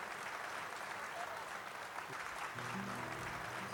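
Applause from a fairly distant audience at a folk peña in Montevideo's Mercado Agrícola greets a voice and harp duo, a steady patter of clapping that lasts throughout, with faint tones entering near the end.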